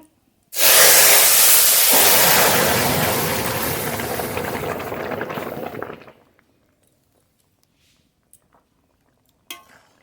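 Lentils poured into hot oil tempered with mustard seeds for masoor dal with olives burst into a loud, broad sizzle that hisses steadily for several seconds, then cuts off into near silence with a faint clink near the end.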